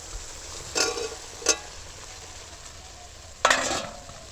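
Pea fritters drop into spiced masala frying in a pan, a soft sizzle marked by three short bursts of louder hissing and spattering.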